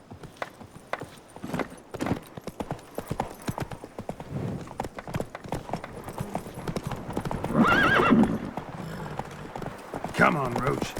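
A horse's hooves clip-clop at a steady pace in The Witcher 3: Blood and Wine, with a whinny and voices talking over the ride.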